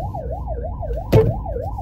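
A wailing siren sweeps up and down steadily throughout, with a brief loud bump or honk midway over low traffic rumble.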